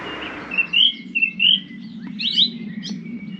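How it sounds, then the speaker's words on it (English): A bird sings beside a reservoir in the Holme Valley near Holmfirth, Yorkshire: a string of bright, high chirps and short trilled phrases, fairly close, over a soft low outdoor rumble, with no one talking. "Just listen to that bird."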